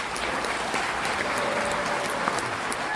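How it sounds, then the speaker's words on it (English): Audience applause at a live Q&A event with a band at Aviva Studios in Manchester, steady dense clapping filling the whole stretch at an even level, with no speech over it. "Talking over applause, very rude."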